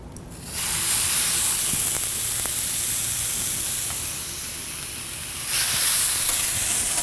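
Peruvian chili marinated hanger steak sizzles on a preheated grill, a steady loud hiss that eases slightly midway and swells again near the end, with a few faint clicks underneath.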